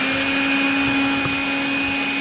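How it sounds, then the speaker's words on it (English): A small portable Milwaukee vacuum cleaner runs steadily up close while cleaning out a drawer slide channel, giving a constant loud whine with a fixed pitch and no talk. "So I've got a little portable Milwaukee vacuum here."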